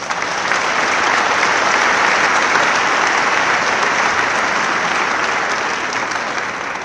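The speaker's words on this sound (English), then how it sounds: "Please offer your applause to all of these fine graduates." Large audience at a Rhodes State College graduation ceremony in 2019 applauding the graduates, a thick, steady roar of clapping filling the hall from start to finish.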